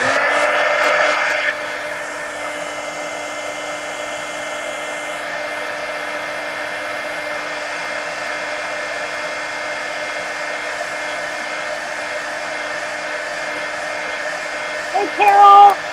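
A hair dryer runs with a steady, continuous whirring hum as it dries paint on a colouring book page, close by and unbroken for most of the stretch, with brief handling noises near the start and end.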